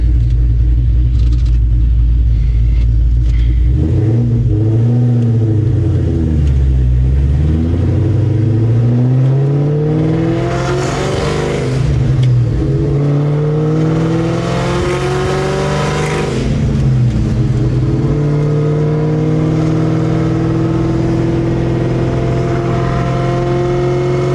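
A cammed Mustang Terminator Cobra engine idles with a deep loping rumble, then revs repeatedly in rising and falling sweeps, loud and close, with sharper bursts around the middle, no talking.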